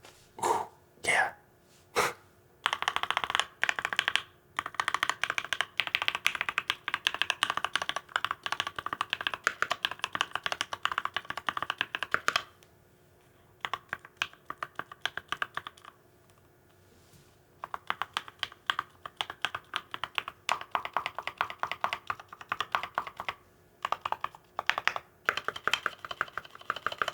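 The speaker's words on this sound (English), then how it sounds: "And the keystrokes are what we all came for, so check out how nice they sound." Mechanical keyboard fitted with Tealios V2 switches being typed on up close, bursts of soft, rapid clacky keystrokes with brief pauses between runs, faint and intimate.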